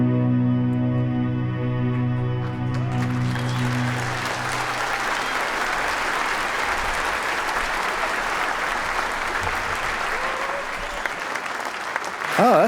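Theater audience at a live anniversary show breaks into applause after a sustained tonal musical passage ends, broad crowd clapping swelling and holding steady in a reverberant hall, with a brief voice at the very end.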